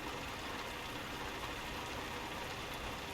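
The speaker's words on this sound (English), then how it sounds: "the engine sounds better" A truck engine idles in Euro Truck Simulator 2, a low, even drone that holds steady and fairly quiet with no other sounds over it.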